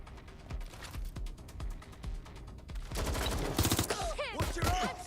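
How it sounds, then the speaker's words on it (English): Gunfire in the video game Watch Dogs: Legion: a rapid string of sharp shots, first in spaced bursts, then a dense, louder volley of automatic fire near the end, mixed with other game noise. "I'm getting shot at!"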